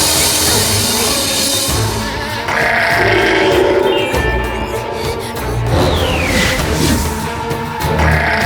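Cartoon sheep bleating in an animated kids' adventure, a loud wavering bleat rising and falling over a busy music and effects bed throughout, with no voices.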